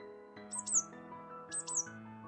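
Two bursts of high, bird-like whistled chirps mimicking songbird calls, each made of quick sliding notes over a steady hum of background music, repeated about a second apart.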